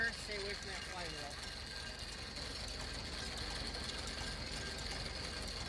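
A John Deere two-cylinder tractor engine runs steadily after repairs, outdoors in winter, with a quiet, even mechanical chugging and a constant hum throughout.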